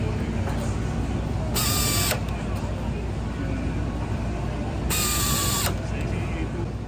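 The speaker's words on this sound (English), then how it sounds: "turning down the screws with a preset torque wrench" A preset torque wrench turns down screws on a rifle during assembly at the Savage Arms factory, giving two loud bursts of ratcheting clicks over constant workshop machine noise.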